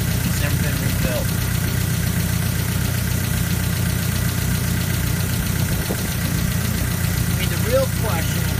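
The engine of a 1999 Honda Civic with about 210,000 miles runs steadily at idle with a constant low hum and vibration throughout. A voice is faintly audible underneath.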